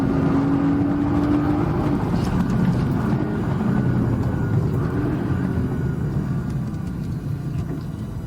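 A race car accelerates in third gear on the Mirabel circuit, giving a loud, continuous engine rumble heard from inside the car throughout.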